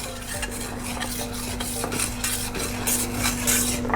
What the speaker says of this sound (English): Now just mix it through.